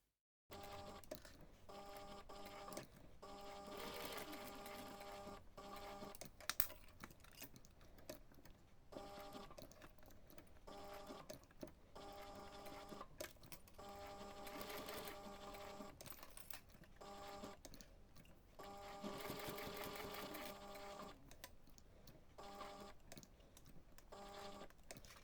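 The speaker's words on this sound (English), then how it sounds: "we're going to take this to the machine and we're going to stitch around the connector and across it" Sewing machine stitching around and across a faux leather connector on a webbing strap, a steady mechanical whirr with rhythmic pauses and restarts running continuously throughout, close and fairly loud.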